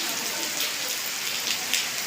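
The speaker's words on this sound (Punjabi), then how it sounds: "ਅੱਜ ਨੂੰ ਮੀਂਹ ਬਹੁਤ ਪੈਂਦਾ ਹੈ" Dense, steady hiss of heavy rain pouring down close by, continuous with no other sounds standing out.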